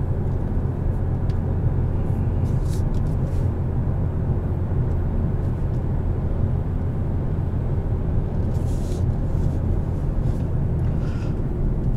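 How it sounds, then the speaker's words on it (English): Steady low rumble and rushing wind noise inside a 2021 Kia K5 GT-Line AWD driving in high gusts, a constant broadband drone with road roar, occasional faint clicks and rustles above it. "Do keep wind noise kind of with a grain of salt today due to the high gusts we have."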